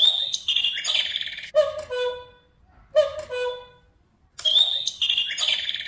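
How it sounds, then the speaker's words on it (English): A programmed electronic cuckoo clock strikes two in the afternoon. Two clear, tonal cuckoo calls sit between bursts of chirpy birdsong at the start and end, loud and close with no talking. "The bird strikes 2."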